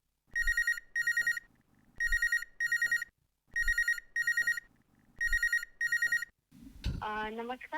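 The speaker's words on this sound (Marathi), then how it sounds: "आता एक कॉल आलेला, तो आपण घेऊया." Telephone ringing for an incoming call on a live radio phone-in show: four clear paired electronic rings, loud and evenly spaced, followed by a voice speaking at the end.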